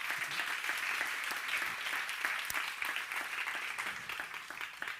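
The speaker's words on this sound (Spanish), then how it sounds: "un aplauso también para ellas" An audience at a vocational-training entrepreneurship awards ceremony breaks into steady, even applause, a continuous wash of many hands clapping throughout without any voices.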